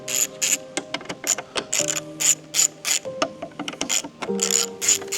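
Ratchet clicking steadily while loosening screws on a BMW X5 M50 during a crash rebuild, close and loud, in quick bursts of rapid clicks separated by short pauses.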